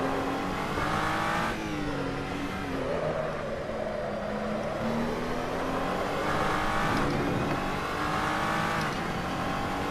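An SCG 003C race car engine in Assetto Corsa drones loudly throughout, its pitch dipping and climbing through gear changes and braking, with a faint tire squeal and no talking.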